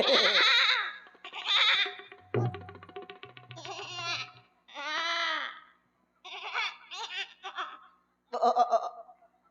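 A comedy performer at a stage show imitating a goat, a series of wavering, nasal bleats in short separate bursts with pauses between them, close and clear.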